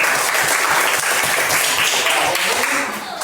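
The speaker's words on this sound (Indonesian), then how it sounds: "tepuk tangan dulu teman-teman" A classroom full of students clapping loudly and continuously, a dense wash of applause that eases off slightly at the close.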